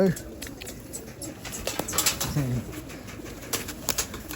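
Pigeons being handled and released for a flight contest in Multan, with short wing flaps and soft coos heard close by amid people talking and loud background chatter.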